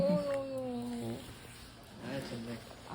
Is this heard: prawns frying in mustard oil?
no